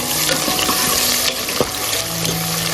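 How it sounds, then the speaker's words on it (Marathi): Finely crushed garlic frying in oil, on the way to a pressure cooker chicken curry. It gives off a loud, close, steady sizzle with stirring clatter and a few sharp knocks against the pan. "हा लसूण घालूया लसूणलाही तेलात चांगलं फ्राय करून घेऊया भाजून घेऊया"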